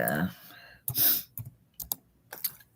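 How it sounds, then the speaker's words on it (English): Scattered clicks from typing on a computer keyboard at a live jewelry auction, irregular taps spread across the moment, mixed with talking and a throat clearing. "I'm doing all this typing."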